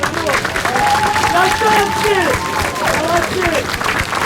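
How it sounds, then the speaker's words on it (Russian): Loud audience applause fills a venue at a water fight combat event, dense clapping sustained throughout with crowd noise, while a voice talks over it. "Похлопаем!"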